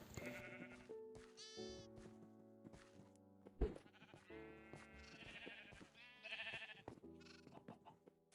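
Sheep in Minecraft bleat repeatedly at close range, several distinct baas scattered among other game sounds at low volume, with no talk.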